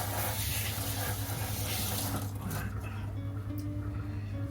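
Tap water runs steadily into a sink as hands are rinsed under it, a close, continuous splashing flow that shifts slightly partway through.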